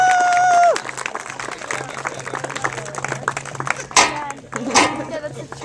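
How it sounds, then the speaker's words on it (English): An audience at a Renaissance-faire magic show applauds. A steady patter of clapping follows a brief tonal sound, and a few louder bursts and voices break in near the end. "Give these gentlemen a nice round of applause."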